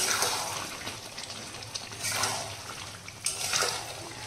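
Water is poured into a pot of goat meat cooking in released oil, arriving in a few splashing, gushing bursts close by, with no talk.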